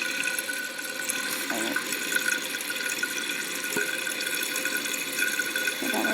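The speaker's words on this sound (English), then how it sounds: "here's a full flush. Watch, look how much more water it uses." New toilet tank doing a full flush and refilling, a steady rush of running water with small drips and gurgles, close and continuous, with a brief spoken word partway through.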